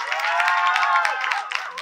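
A short, steady burst of audience clapping and applause follows a student's song at a college Shiv Jayanti celebration, filling the room evenly from start to end.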